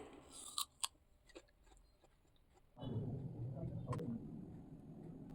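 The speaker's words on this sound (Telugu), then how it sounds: "నేనైతే ఈవినింగ్ జ్యూస్ కాకుండా ఇలా యాపిల్ అయితే తింటున్నానండి" Crisp crunchy bites into an apple eaten as an evening snack, followed by steady close chewing for several seconds.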